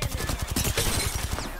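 Rapid bursts of gunfire from an enemy player in an online shooter game, a quick loud rattling volley lasting under two seconds.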